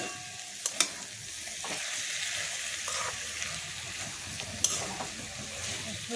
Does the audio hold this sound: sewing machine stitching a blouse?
no